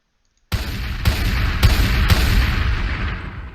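Shotgun blasts in a video game, about four heavy booming shots in quick succession after a brief silence, loud and close with a lingering rumble between them.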